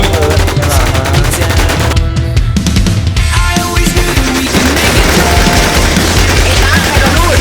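Continuous rapid gunfire from the zombie shooter game AfterlifeZ, bursts of automatic fire layered over booming low rumble, loud and dense throughout with brief dips in intensity.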